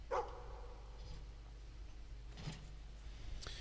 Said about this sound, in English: a neighbor's dog 2 houses away from where I live